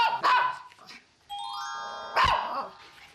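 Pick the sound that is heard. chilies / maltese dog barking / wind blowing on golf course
maltese dog barking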